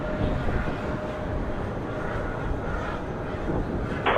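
Airliners departing Charlotte Douglas airport on a windy day give a steady, loud broadband roar that holds level throughout, with wind buffeting mixed in and no talk.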